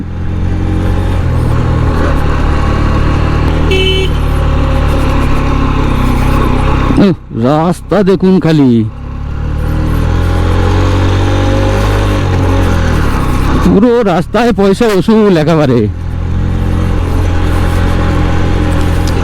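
A 125cc motorbike ridden along a mountain road to Darjeeling, its engine a steady loud drone with two passages of shifting, revving pitch, while a rider talks over it close to the microphone.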